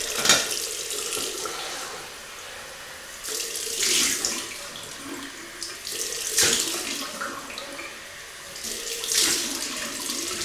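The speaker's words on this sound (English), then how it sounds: "Cold water rinse." Cold tap water runs in several bursts for a rinse while shaving, splashing into a sink, with quieter gaps between each flow.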